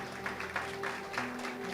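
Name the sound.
church congregation applause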